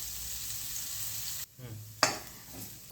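Sweet potato pieces fry in a pan for kheer, a steady close sizzle broken by a short pause and then sharp clatters of stirring.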